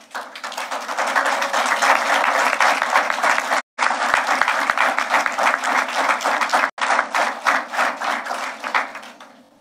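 Audience applauding a firefighter at a Bermuda Fire and Rescue Services passing out parade: sustained dense clapping from many hands, with two brief gaps, then thinning toward the end.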